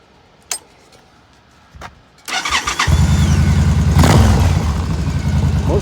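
A motorcycle engine cranks over after a couple of faint clicks, catches abruptly, and settles into a loud, close, steady idle with a brief rev midway.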